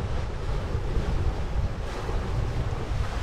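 Strong wind buffets a sailboat at sea off Norway on the way to Bergen, a constant loud rushing roar with heavy low rumble from gusts on the microphone and washing waves beneath.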